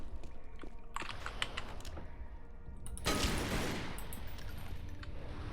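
Gunfire in Tomb Raider: Legend: a few sharp shots and a quick burst of rapid fire crack out over the game's ambient background, moderately loud and close.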